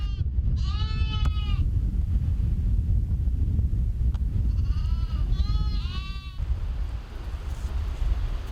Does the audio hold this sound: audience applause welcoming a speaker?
no